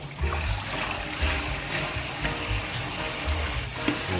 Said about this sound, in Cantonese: OK， 再沖一沖水嘅啦